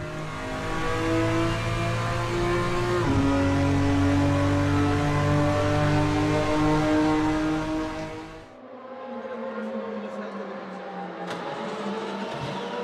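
A BMW M4 GT4 race car engine at Imola holds a loud, droning high-rev tone with a gear change, then drops off sharply as the throttle lifts, humming lower before building again.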